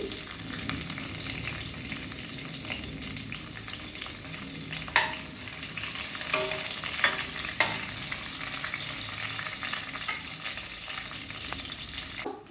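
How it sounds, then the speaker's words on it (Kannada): Onions fry in a pan with mustard seeds, curry leaves and green chilli for lady finger palya, a steady close crackling sizzle with occasional louder pops and spatula scrapes. "ಈಗ ಈರುಳ್ಳಿ ಚೆನ್ನಾಗಿ ಫ್ರೈ ಆಗಿದೆ"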